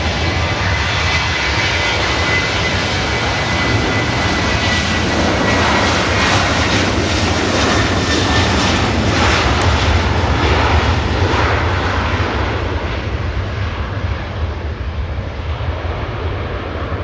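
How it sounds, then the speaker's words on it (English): A Ryanair jet airliner lifts off runway 23 left at Manchester Airport, its engines a loud, steady broadband roar that holds throughout without any talk. "There goes the Ryanair. Floats off the 2-3 left surface."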